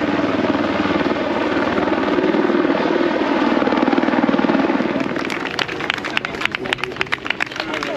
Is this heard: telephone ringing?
no